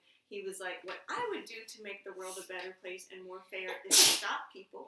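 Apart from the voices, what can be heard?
sneeze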